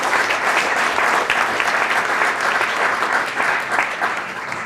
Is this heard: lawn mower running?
no